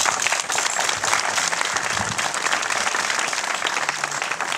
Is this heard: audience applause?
yes